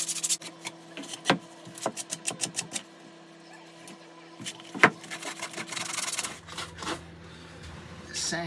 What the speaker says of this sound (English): Sand your bits and pieces before you put it together.